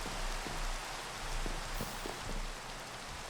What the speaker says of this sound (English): I guess it's raining.